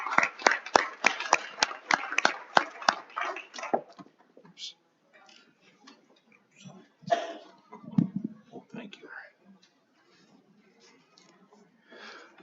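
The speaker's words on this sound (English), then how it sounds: "One more round of applause, please, for Ronald Sorrentino." A town board meeting crowd claps for Ronald Sorrentino, a short run of distinct, fairly close hand claps that quickly dies away into quiet room noise and faint murmuring.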